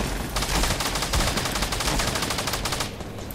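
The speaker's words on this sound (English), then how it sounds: "There's a lot of shooting by me." Nearby automatic gunfire in Fortnite, a rapid burst of loud repeated shots rattling steadily for about three seconds before tapering off.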